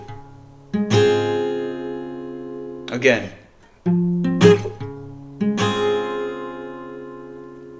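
An acoustic guitar plays the strumming pattern for a song: four loud, ringing strum groups close up, each fading before the next, with a voice speaking briefly between them.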